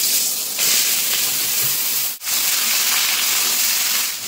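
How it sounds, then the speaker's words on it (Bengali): Washed, diced bottle gourd hits a hot pan with a loud, steady steaming hiss that carries through the whole stretch, broken by one brief dip in the middle. "তো এখন এই কেটে ধুয়ে রাখা লাউ কিন্তু দিয়ে দেবো।"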